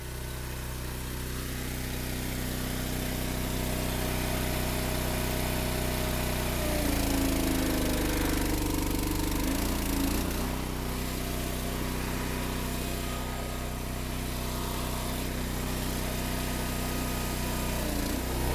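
Wolfridge single-wedge log splitter engine running steadily and loud nearby while splitting big firewood rounds, its drone dipping into a lower laboring tone midway before recovering; no talking.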